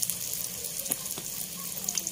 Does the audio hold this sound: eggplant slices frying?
yes